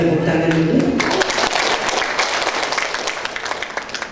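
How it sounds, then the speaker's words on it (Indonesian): Audience at a university workshop in Indonesia bursts into applause, dense clapping that swells after a brief spoken introduction, then gradually thins and fades over several seconds. "Kita beri tepuk tangan dulu."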